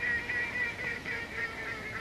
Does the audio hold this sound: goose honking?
yes